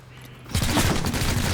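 Gunfire in the video game Chimera Squad breaks out suddenly as a loud, dense burst of shots after a moment of near quiet.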